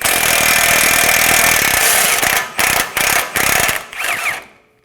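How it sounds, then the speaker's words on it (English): A ratchet wrench with a 17mm socket backs out a bolt on a 2017-2024 Nissan Armada 5.6L V8 front CV axle, giving a long loud stretch of dense ratcheting clicks, then several short separate bursts before stopping. "And for the bolt, we're gonna be using a 17mm socket."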